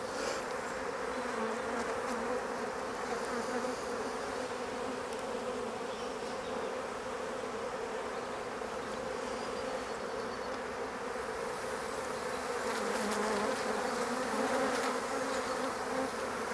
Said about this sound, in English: increase the number of bees dramatically, and we're going to have to give them more space.